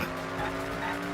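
Car in the video game Danganronpa V3 skidding with a sustained tire squeal and engine whine, loud and close for about a second, with no clear crash impact.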